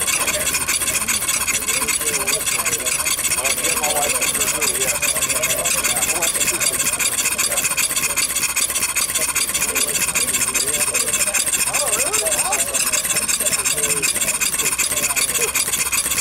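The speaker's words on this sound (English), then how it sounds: "It's currently running on an on-demand propane regulator." An antique gas engine idles on propane through an on-demand regulator, giving a steady, continuous mechanical hum with faint rubbing and squeaking tones; a person talks over it.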